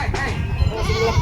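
A goat bleating at a livestock market, one short, close bleat amid background chatter and crowd noise.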